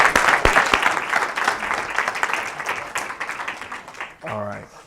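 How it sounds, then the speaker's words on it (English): An audience at a Las Vegas book event gives a round of applause, dense clapping that fades toward the end, with some voices underneath. "So I'd like to give everybody a round of applause for that"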